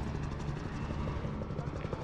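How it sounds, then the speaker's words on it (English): A video game helicopter gives off a steady low rotor thrum with a faint rhythmic chop, fairly close and unbroken, with no clear talk over it. "There's this chopper here too."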